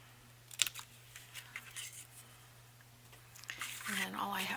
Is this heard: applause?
no